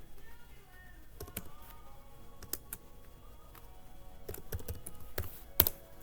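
Keys tapped on a computer keyboard while entering a short product search, a few soft clicks in scattered bursts, close but faint, with no talking.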